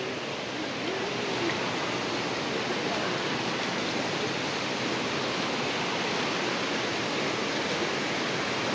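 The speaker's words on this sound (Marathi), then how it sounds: "पाण्याचा आवाज किती येतोय बघ ना." Palse waterfall in Mulshi roaring nearby, a dense unbroken rush of falling water that stays loud and steady throughout, with no other sounds standing out.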